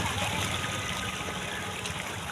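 Ganges river water is splashed and trickled while a bottle is rinsed on the riverbank, a continuous close wash of liquid noise with no clear talking.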